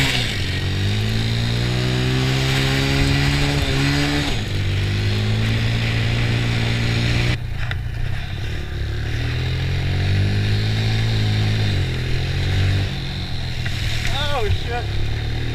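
A Honda TRX90 ATV engine runs steadily with a sustained low rumble and shifting revs throughout, joined by voices talking nearby.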